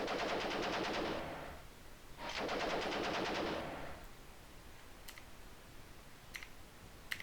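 Two sustained bursts of rapid machine-gun fire in the WWII tank game Armoured Commander 2, each about one and a half seconds long, dense rattling, followed by a few sparse mouse clicks.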